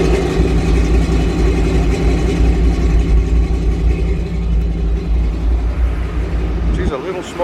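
An old, worn-out motor runs steadily with a heavy low rumble, a little smoky and close by, before the tone shifts abruptly near the end.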